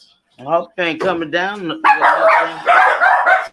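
Several dogs bark and yip over a few seconds, mixed in with someone talking close by.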